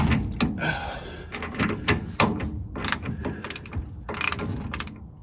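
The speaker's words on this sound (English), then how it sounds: "Right, let's get these bolts off." Bolts being loosened with ratcheting and wrench clicks on the custom rear suspension of a 1936 Chevy coupe, a string of sharp metallic clicks and clanks in irregular bursts, close and fairly loud, with no talk.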